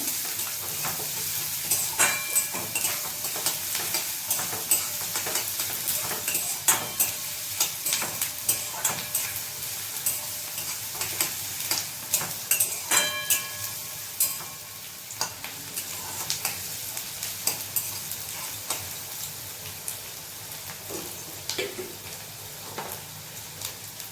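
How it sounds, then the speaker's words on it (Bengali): Chopped ginger and garlic fry lightly in hot oil, a continuous close sizzle punctuated by steady, regular stirring scrapes of a spatula against the pan, with no talking. "আদা রসুন কুচিটাও দিয়ে দেবো। ভালো করে হালকা করে ভেজে নেব।"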